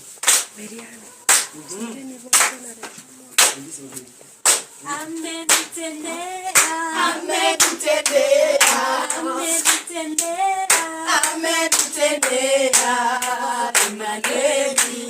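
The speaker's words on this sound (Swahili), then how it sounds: "Haya, pigeni makofi." A church congregation claps hands in worship: sharp, loud claps come at a regular pace, then merge into steady rhythmic clapping as singing voices join in.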